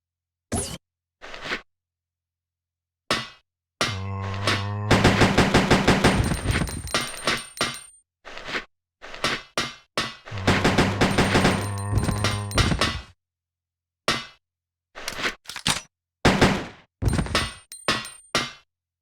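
Pistol shots aimed at zombies in Resident Evil Code: Veronica ring out as sharp, separate reports, some single and some in quick runs, punctuated by short bursts of gritty impact noise and with silent gaps between them.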